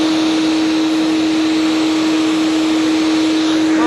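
A suction machine pulls in a pile of dust, a loud, steady, close roar with a constant whine held for the whole stretch, no voices on top.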